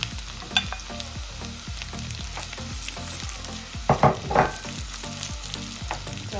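Kidney frying in a pan for a potato and kidney pie gives a steady close sizzle, broken by repeated stirring scrapes and a few louder clatters near the middle.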